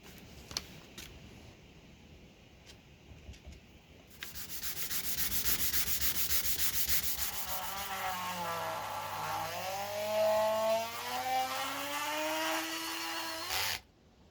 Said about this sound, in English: I'm putting a sandpaper and block in there and get that filled.